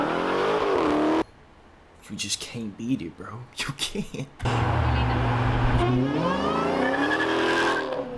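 Mopar car engine revving hard with a high supercharger whine, loud and close, in two long sustained bursts around a stretch of excited talk.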